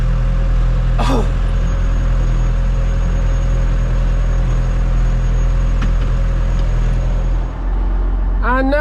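A Massey Ferguson MF 3075 tractor pulls beet with an Armer Salmon harvester in the field. Its steady, loud diesel drone and low engine rumble carry on throughout, with a short whistle-like sweep early on and brief speech near the end.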